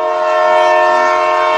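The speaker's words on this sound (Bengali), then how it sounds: "চল, এবার ট্রেন ছাড়বার সময় হয়েছে।" A departing train sounds its horn in one sustained, loud, steady blast, with no voices over it.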